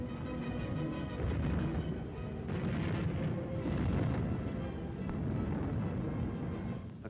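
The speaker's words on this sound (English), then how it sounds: "Unsere Flak nimmt den Kampf auf." Wartime anti-aircraft flak guns firing at American bombers over Caen, a continuous dull rumble of distant bursts and booms in an old, noisy film recording.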